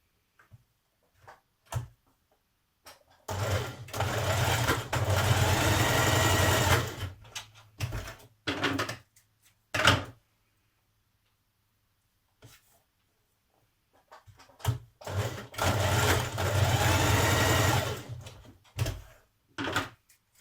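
A sewing machine stitches pocket seams on a summer dress in two long bursts of fast, loud mechanical whirring, separated by quiet handling clicks, taps and knocks nearby.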